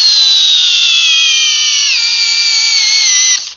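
A 36-volt Metabo HPT cordless drill on a fully charged 4-amp-hour battery runs flat out under load in a torque test, a loud steady high-pitched whine that dips slightly in pitch midway and then cuts off sharply.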